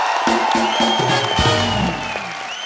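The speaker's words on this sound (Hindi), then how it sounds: "शाहरुख भाई के लिए जोरदार तालियां" A studio audience on a comedy talk show applauds for Shahrukh Khan, steady clapping and cheering lasting the whole stretch, with musical tones ringing beneath.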